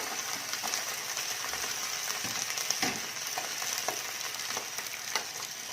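Rice stir-fried with beaten eggs in a hot pan, a steady bright sizzle throughout with scattered scraping clicks of a utensil stirring the grains.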